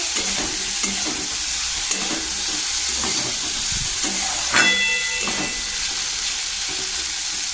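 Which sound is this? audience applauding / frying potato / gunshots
frying potato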